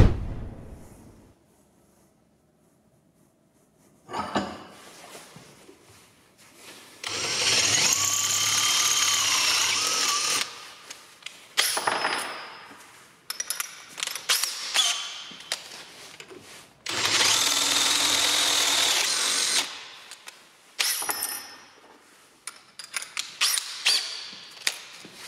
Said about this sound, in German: Loch in der Mitte größer bohren.